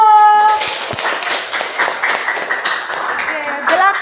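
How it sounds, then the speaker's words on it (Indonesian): Students in a classroom clap together for a group, a dense burst of applause that fills the whole moment, with a teacher's voice and children's chatter mixed over it. "Tepuk tangan dulu."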